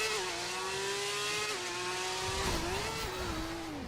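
Police Porsche engine revving hard in a racing video game, a loud steady whine with pitch dips and swells as the throttle shifts, running the whole time with no talk.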